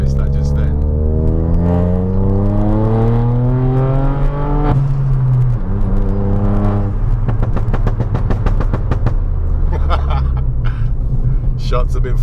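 A tuned Stage 2 Ford Fiesta 1.0 EcoBoost with about 180 bhp drives along, its engine drone rising and falling through the gears, then a rapid series of sharp exhaust pops and crackles on lift-off, loud and close, with people talking over it.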